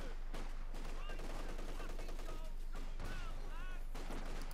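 Gunfire in the Company of Heroes 2 strategy game, with several sharp shots and bursts over constant battle noise and whistling effects, fairly quiet overall in a snowy winter battle.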